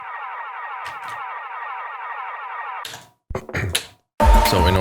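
White noise sound design for an electronic remix with a delay effect: a sustained, shimmering band of noise gives way to choppy, repeating bursts and sharp echoing hits, loud and close, with no voice.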